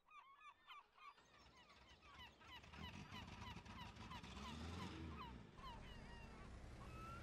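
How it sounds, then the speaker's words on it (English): Geese honk and squawk repeatedly in Farming Simulator 17 on Rathlin Island, with busy overlapping calls over a rising steady rumble of wind or water. "I was hearing the birds squawk,"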